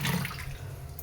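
Water splashes steadily into a pot of lentils, a brief, close, continuous rushing pour without voices.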